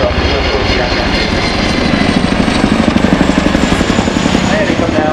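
An RAF Chinook twin-rotor helicopter flying at the Waddington Airshow, a loud, close, continuous rotor roar with a rapid pulsing beat throughout.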